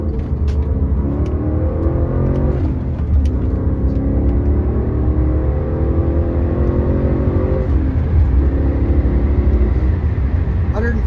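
A 2009 Porsche Cayenne GTS with a 6-speed manual and high mileage accelerates hard, its engine note rising through repeated pulls and a gear change, loud inside the cabin while someone talks over it.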